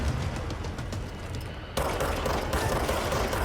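Dense gunfire rattles continuously in the action game Control as enemies are shot, loud and unbroken, with a sharp jump in intensity partway through and no talk.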